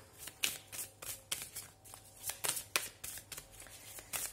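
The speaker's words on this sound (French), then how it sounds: "je vais tirer une carte des cristaux." Crystal oracle cards being shuffled and drawn by hand, a close series of rhythmic riffling swishes and soft card snaps repeating about every half second, with no talking.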